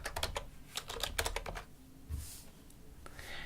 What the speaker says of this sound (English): I'm going to type in soft washing, Missoula, Montana.